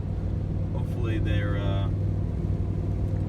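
A motorhome rolls along a long stretch of road in nasty weather, its engine and tyre rumble a steady, loud drone throughout, with a brief higher whine rising midway.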